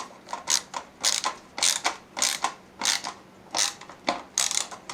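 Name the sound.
screwing a drive into a computer case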